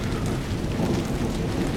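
Steady rain from a thunderstorm with lightning, a continuous loud wash of falling drops over a low rumble of thunder throughout.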